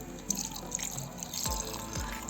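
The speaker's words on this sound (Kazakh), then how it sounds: "Сол үшін су қосамыз. Су фильтрованный, өзім ішетін, ішіп жүрген суды қосамын." Filtered drinking water pours into a bowl of thick sour cream, giving a soft trickling splash and dripping close up over a faint background hiss.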